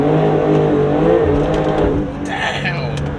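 A 2021 Porsche 992 Turbo S accelerates hard, its engine roaring loud and close with a steady climbing drone, a brief shift dip partway through, and faint tire noise.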